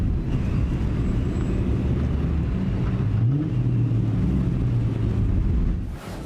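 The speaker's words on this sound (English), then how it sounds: "people just love the sound of the Mustangs" Ford Mustang muscle cars rumble past at close range, a loud, heavy engine roar with rising and falling revs that swells and fades across several seconds.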